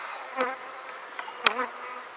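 Honey bees buzz steadily around a top bar hive opened for a spring checkup after three years untouched, a close, continuous insect drone with a few louder passes as individual bees fly near.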